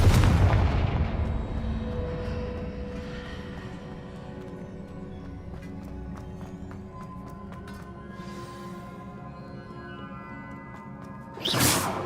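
Fiery Confringo spell blasts in the Hogwarts Legacy video game: a heavy boom opens, a rumbling tail rings out under a sustained musical score, and a second sharp burst lands near the end.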